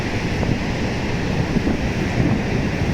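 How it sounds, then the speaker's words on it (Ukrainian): Niagara Falls thunders as a constant, dense roar of rushing, falling water, loud and steady throughout with no voices over it. "Яка вода мощність тече як класно, падає з водопаду."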